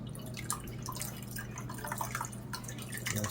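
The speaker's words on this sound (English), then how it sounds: "I'm going to drain the juice out into this smaller pot like this." Juice draining from a cheesecloth into a small pot, heard as close, quiet dripping and trickling over a low steady hum.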